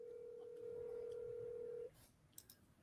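A cell phone number is tapped out on a phone keypad, one long steady tone followed by a few short beeps, then quiet line noise.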